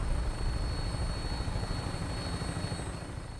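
Steady low rumble of an aircraft engine, like a helicopter or propeller craft powering up for takeoff in Fallout 4, constant and fairly loud with a faint high whine on top.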